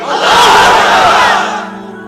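Crowd of married men at a Bengali religious gathering shouting Allahu Akbar together in response to a call, one loud, massed roar swelling and fading over about two seconds.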